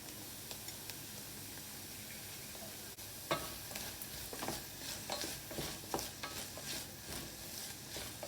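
Chopped onions, garlic and peppercorns sizzle quietly in a pan while a utensil stirs them, with soft scraping strokes repeating every second or so over a steady low frying hiss.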